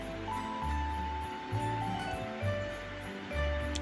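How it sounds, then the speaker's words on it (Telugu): Waves on the fast-flowing, rain-swollen Godavari river at Kovvur make a constant close rushing wash, with a low rumble that swells and eases in uneven surges. "అలలు ఎలా వస్తున్నాయో కెరటాల్లాగా."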